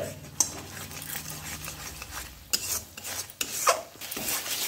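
Spice paste for katla fish rezala being stirred in a pan, a close rasping scrape of utensil on metal repeated in uneven strokes, with sharper clinks of the spoon against the pan's side.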